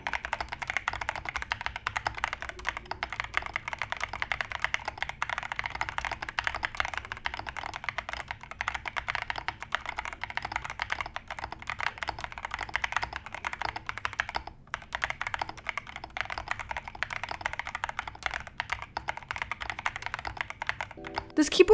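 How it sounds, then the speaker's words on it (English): Continuous rapid keystrokes on an Epomaker TH40 compact 40% keyboard fitted with smooth pre-lubed linear Flamingo switches, a steady close clatter of typing with no talking. "Let's do a typing test."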